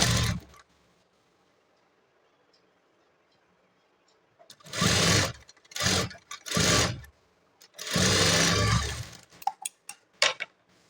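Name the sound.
sewing machine stitching a blouse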